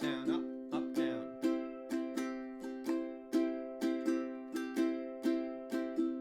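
Ukulele strummed in a down-down-up-up pattern, a steady run of about a dozen bright chord strokes with regular rhythm, close and clear, with no voices over it.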